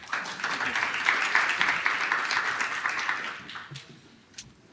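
An audience at a research talk session applauds a speaker's introduction, a sustained wash of many hands clapping that fades out over the last second or so.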